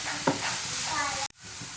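Vegetables sautéing over a high flame for egg fried rice, with a busy hiss of frying and stirring that cuts off abruptly for a moment before resuming more faintly.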